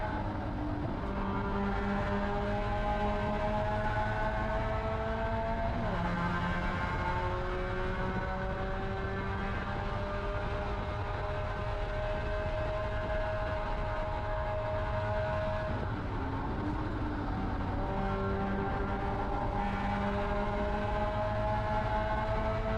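Spec Miata race car engine howling steadily at high revs on the final lap of a divisional finals race, loud and close, with pitch dropping and climbing again through two gear shifts and no talk.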